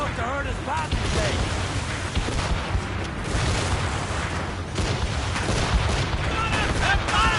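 Ship cannons fire during a naval battle in Assassin's Creed Rogue, a dense continuous rumble of booms and blasts layered under shouted voices and crew commotion throughout.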